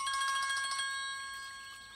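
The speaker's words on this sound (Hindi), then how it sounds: "अरे फोन है।" A phone rings with a bright, tonal electronic ring that is steady at first and then fades over a couple of seconds. No one speaks over it, and it is heard in a tense drama scene.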